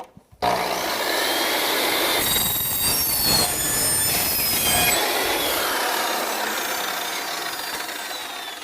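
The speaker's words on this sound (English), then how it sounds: "filing it down" A metal chassis part being filed by hand after cutting, a continuous loud rasping scrape with rhythmic back-and-forth strokes and shrill metallic squealing overtones, close up and steady throughout without voices.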